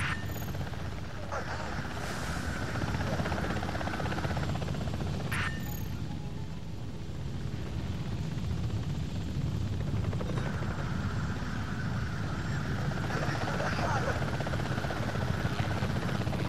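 A helicopter in the Apache Air Assault flight video game gives a continuous loud rotor and engine roar throughout, with a couple of brief sharp clicks and faint talk beneath.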